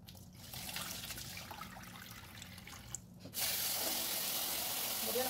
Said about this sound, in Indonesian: Ini lentilnya dicuci dulu sampai bersih.